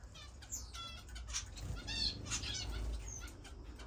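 Grass finches and other finches flapping their wings in an indoor bird room, heard as repeated quick fluttering bursts close to the microphone, with soft chirps and tweets over a quiet background and no talk.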